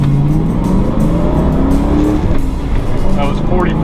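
A 1993 SVT Mustang Cobra accelerating hard from a dig, its engine climbing steadily toward 4,500 RPM, loud and close from inside the car, with a brief voice near the end.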